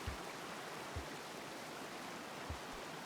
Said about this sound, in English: Can I stand in this waterfall here and it just does it?